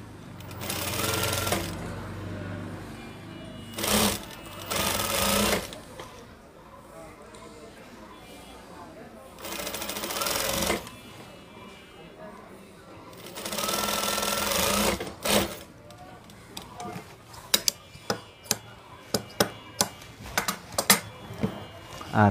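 Sewing machine stitching the joined shoulder seam of a fishcut frock, running in several loud bursts separated by pauses, followed by a run of short sharp clicks and taps near the end; a voice talks between some bursts.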